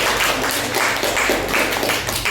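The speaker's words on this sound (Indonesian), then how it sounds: "tepuk tangan untuk kelompok 3" A classroom group applauding after a presentation by group 3, dense and loud clapping from many hands that holds steady from start to finish.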